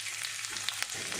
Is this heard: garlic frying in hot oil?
yes